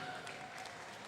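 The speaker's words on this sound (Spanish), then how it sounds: "Pido un fuerte aplauso para él que está desde el cielo." Audience applause at the final night of a live outdoor folk music festival: steady, dense clapping from a large crowd, sustained and fairly loud across the whole moment.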